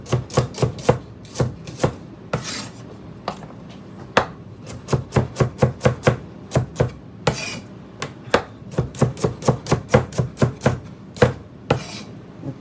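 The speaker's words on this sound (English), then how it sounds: "I'm going to cut off the celery right quick," A knife chops celery on a cutting board in quick, loud, rhythmic strikes, falling in fast bursts with short pauses between runs; no one speaks.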